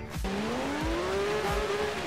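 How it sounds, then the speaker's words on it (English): A car engine in Forza Horizon 3 revs steadily through snowy canyons, a close, loud engine tone climbing in pitch between short shift dips, heard alone without talk. "I can literally hear this car's engine just echo in the canyons"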